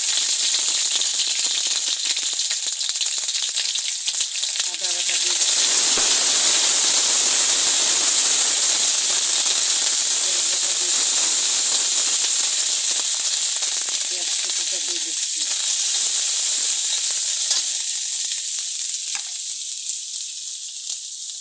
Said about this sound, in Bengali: তেল গরম হয়ে গেছে চার পাঁচ মতো তেল দিয়েছি এখন একে একে রসুন বাটা দিয়ে দিচ্ছি